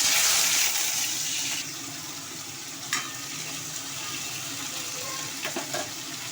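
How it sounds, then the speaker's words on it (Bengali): Potatoes frying in hot oil in a wok with chilli and cumin tempering, a steady sizzle that is louder at first and then settles to a quieter hiss, with a few faint clinks of stirring. "এবার আলুগুলো দিয়ে দেবো ভাজতে"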